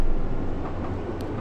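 A metro train driven underground in the video game Metro Simulator, heard as a steady, loud rumbling roll with broadband rail noise, continuous and alone without talk.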